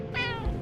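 A single short, clear meow from an orange cat in the video game Only Way is Down, close and distinct over quiet background.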